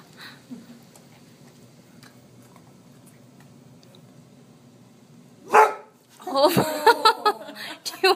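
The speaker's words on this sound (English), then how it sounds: "Highly stressed dog." A highly stressed dog lets out a sharp bark after a quiet stretch, followed by a flurry of rapid, loud barks, with people talking and chuckling faintly nearby.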